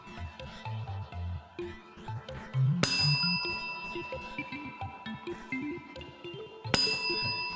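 A bright bicycle-style bell rings twice, a few seconds apart, each ding ringing out clearly over a soft, busy background of low tones.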